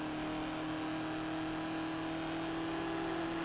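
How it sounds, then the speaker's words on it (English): A car engine drones steadily in the Test Drive Unlimited racing game, a constant loud whirring hum with a held tone and no clear break for a gear change, heard alone without talk. "It's just the noise when you change gear."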